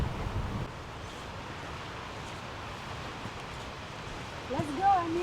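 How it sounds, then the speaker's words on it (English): Wind gusts and rushes along a forest trail lined with boardwalks, a steady, breathy roar buffeting the microphone, with a brief voice near the end. "I didn't expect it to be this windy"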